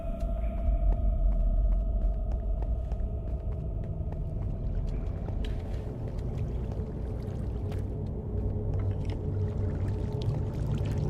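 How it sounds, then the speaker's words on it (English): Flowing water in the Minecraft video game, a steady rushing wash with a low rumble and hum that continues without a break for the whole stretch. "I hear water this way"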